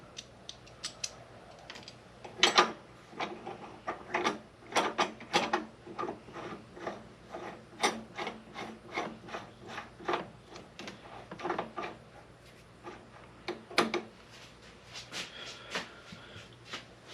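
An ER40 collet is worked into a collet chuck on a lathe, giving a long series of sharp, close metallic clicks and ratcheting snaps in an irregular rhythm, fairly quiet overall with no talking.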